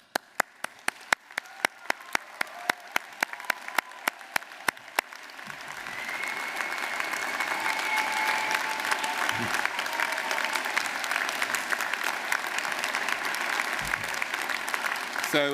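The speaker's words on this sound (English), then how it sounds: "give them a huge round of applause to thank them for everything they did to get you here" At a university graduation ceremony, a few isolated sharp claps ring out at first, then the audience joins in and swells into sustained, loud, dense applause that fills the hall, with faint cheering mixed in.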